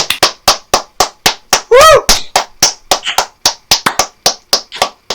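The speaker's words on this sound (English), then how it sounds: "I think we can all give a round of applause to the Christmas spider." Audience applause for the Christmas spider: about twenty sharp, evenly spaced claps, as if from a single clapper, close and loud, broken midway by a brief whooping cheer.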